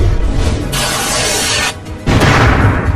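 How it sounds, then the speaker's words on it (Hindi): A big firecracker goes off near a house in a cartoon, a loud booming blast with a crackling, shattering burst that briefly drops away and then surges back just as strong. "लगता है किसी ने हमारे घर के पास एक बड़ा पटाखा फोड़ दिया है"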